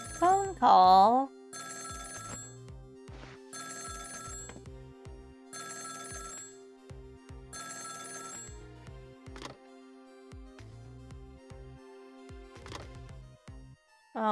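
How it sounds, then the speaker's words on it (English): A telephone in Ghost Trick: Phantom Detective rings in repeated bursts of electronic bell tones with short pauses between them, over game music and occasional sound effects. "Phone call."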